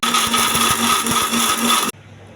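A mixer grinder blends coconut chutney with mint and coriander, a loud close whirring motor with a pulsing churn for about two seconds, then it stops sharply into quiet.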